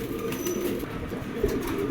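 Male Ice Bar racer pigeons and other pigeons coo steadily at close range in a loft or market, soft and continuous over a low hum of background activity.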